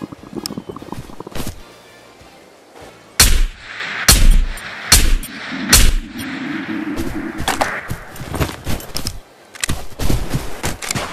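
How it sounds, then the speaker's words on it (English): Gunfire in the VR shooter Ghosts of Tabor: a quiet opening, then from about three seconds a series of loud, sharp shots in bursts and single cracks, each ending in a brief tail, with no speech. "Actually, let me use Tripper's gun"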